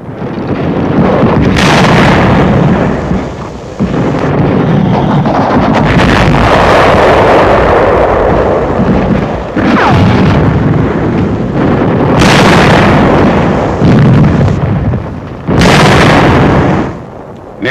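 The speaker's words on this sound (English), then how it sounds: "Military tank suffers a direct hit, and the crew leaps from the flames." Loud, rumbling blasts and wind-buffeted roar from WWII battle footage of a shell striking a military tank, several heavy bursts swelling and fading over a constant harsh outdoor rumble.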